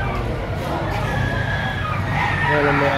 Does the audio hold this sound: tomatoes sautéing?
no